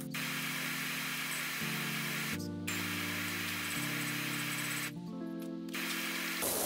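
A continuous pressure-washer spray hiss in PowerWash Simulator runs the whole time at an even level, with steady tonal hum layered underneath that shifts pitch a few times.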